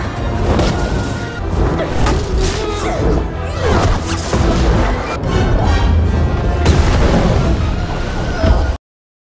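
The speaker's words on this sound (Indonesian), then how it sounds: "Ledakan energi yang terjadi di ruangan sihir" A dense, loud burst of magical energy in a sorcery chamber, with sustained crashing, booming and rumbling layered over dramatic score for several seconds before cutting off abruptly.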